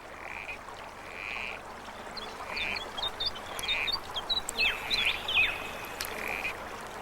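Male corroboree frog calling on a summer night in alpine bogs, repeated short croaking calls in a loose series, with fainter chirps from other frogs and insects in the background.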